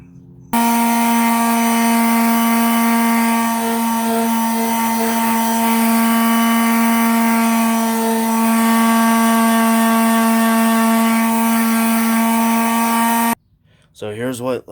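Loud steady motor whine of an electric sander with fine sandpaper running on hardwood for several seconds, then cutting off as a voice briefly speaks.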